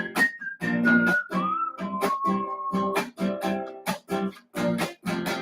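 Someone whistles a short melodic hook, a series of clear sustained and sliding notes in a steady rhythm, close and fairly loud with no talking.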